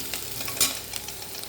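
Horse gram roasting in a pan, being stirred with light scraping and crackling sizzle, moderately close, with one sharper clatter midway and no voices.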